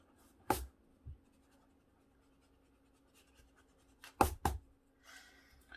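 An eraser rubs across a hand drawing on paper in a few short, close scrubbing bursts separated by quiet pauses.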